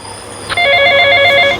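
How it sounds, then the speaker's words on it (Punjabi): A phone rings with a steady electronic tone that starts suddenly and holds loud and close for about a second, over low room hum, with no talking. "ਮੰਮੀ ਦਾ ਫੋਨ ਵੱਜਣ ਦਿਆ ਵਾ"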